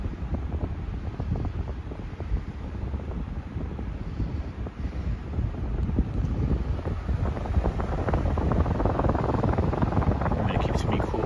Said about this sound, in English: here's high speed. Like, even on the high speed, it's quieter than in the Honeywell